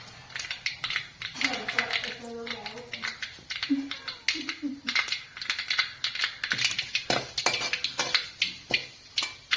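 Mustard seeds pop in hot oil for a Kerala-style chicken thoran, giving rapid, irregular sharp crackles that run steadily and close, with low voiced sounds underneath.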